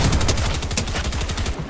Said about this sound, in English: Oh, I've got a shotgun guy on me.